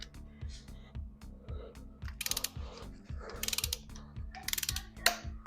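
A ratchet torque wrench tightens the small upper bolts on an LS engine, clicking in quick, rhythmic ratcheting strokes close up, with brief pauses and sharp metallic clinks between passes.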